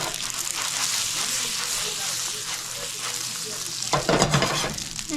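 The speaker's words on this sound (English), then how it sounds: "I'm going to add a little bit of butter to add a little more fat to help them sear good" Shrimp sear in butter in a pan with a steady, close sizzle and crackle, swelling into a louder burst of frying near the end, with a voice talking faintly underneath.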